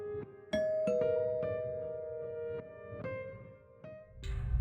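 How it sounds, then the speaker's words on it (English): A chiming doorbell rings out clear, sustained tones, several struck notes ringing and overlapping at moderate volume, ending with a burst of broadband noise. "It was about 8:10 when Raymond got home and rang the bell."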